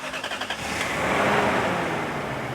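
A Toyota Kijang or Lexus engine cranks with quick chugging pulses, then catches and settles into a loud, even idle close by, with no talk.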